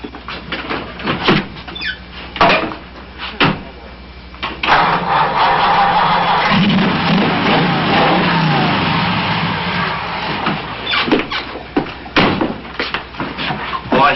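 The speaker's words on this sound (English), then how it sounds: "Should I start her now? Fire her up." A 1932 Ford roadster hot rod engine cranks and catches, then revs and runs with a throaty, rumbling idle, close by and loud, with a few clunks at the start and end.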